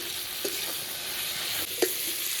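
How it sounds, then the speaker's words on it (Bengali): Fried potatoes and thinly sliced medium tomatoes sauté together in a pan for a gourd and lentil dal, giving a steady close hiss of frying with a couple of light stirring knocks. "টমেটোটা দিয়েও ভালো করে একটু এটা কষিয়ে নেবো"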